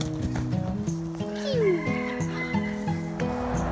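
Roosters and hens on a family farm with a milk cow, crowing and clucking in overlapping bursts close by, with a person's voice among them.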